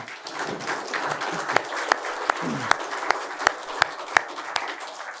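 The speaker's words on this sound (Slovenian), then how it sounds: "si zaslužijo vsi skupaj en aplavz" Audience applause closes a talk on planned changes to higher vocational education law, a steady broad clatter of many hands, with a few sharper, louder claps standing out at regular intervals.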